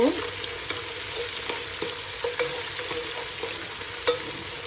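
Ginger and garlic paste, cumin, cardamom and cinnamon fry for haleem with a close, steady sizzle, punctuated by regular light clicks and scrapes of a spoon stirring the pan.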